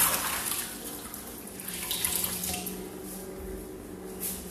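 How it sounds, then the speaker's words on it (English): A kitchen tap runs steadily while hands are rinsed under it after rubbing a pork roast. The splashing and hissing of the water is close and continuous, with no talking. "Now what I'm gonna do is I'm washing my hands real quick."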